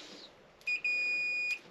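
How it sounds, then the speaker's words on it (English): A steady high-pitched electronic beep from a multimeter continuity test, sounding twice: a short blip followed by a longer continuous tone lasting under a second, close and clear. "test meter again, onto the continuity set, which gives you the beeping sound"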